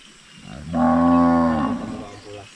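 Cattle on a farm in the Philippines give a single long, loud moo near the microphone. The call rises and holds for about a second over quiet rural background, with no voices.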